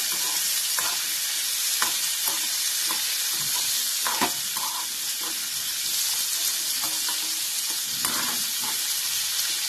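Green chillies and tomatoes fry for chutney in a hot pan, giving a steady loud sizzle with a bright hiss and scattered sharp crackles and stirring scrapes throughout, no voices.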